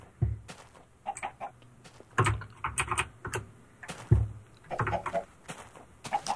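Chickens in the Minecraft 1.8 beta give scattered, fairly faint clucks in short irregular bursts separated by gaps.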